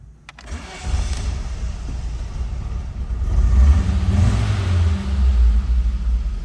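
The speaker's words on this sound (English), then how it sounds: "You have to rev it up when you first start it because you have to essentially activate the alternator." A 1983 VW Quantum GL5 wagon's five-cylinder engine cranks and catches, then settles into a steady running note before being revved up in a couple of swelling pushes, close and loud with no talking.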